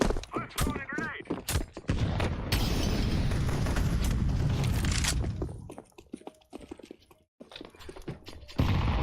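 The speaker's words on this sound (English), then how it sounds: "I'm throwing a grenade." A grenade blast in Counter-Strike 2, with a long, loud, roaring explosion after sharp clicks and thumps, then quieter game sounds and keyboard tapping, with someone speaking at the start.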